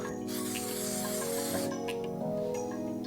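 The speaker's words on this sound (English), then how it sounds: "Just literally just spray it on this." A steady continuous hiss of an aerosol spray adhesive can, held for a few seconds while gluing a knife handle, with a brief pause and background tone underneath.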